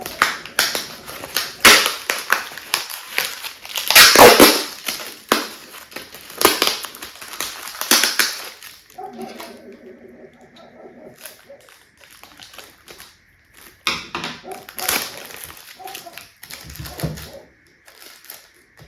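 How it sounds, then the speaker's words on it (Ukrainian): Crinkling paper and sharp ripping of sticky tape pulled from a roll as paper is wrapped with tape, in bursts with pauses between, close up and fairly loud. "Зараз трошки його обмотаю скотчем."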